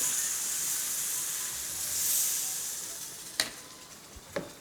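Coconut milk being stirred into a tamarind curry sauce, giving a steady, even sizzling hiss with a couple of sharp utensil clicks near the end and no talking.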